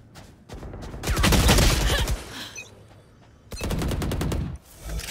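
Gunfire in a roleplay video game: rapid bursts of automatic fire crack loudly in two separate volleys with a brief lull between them, then a short final burst.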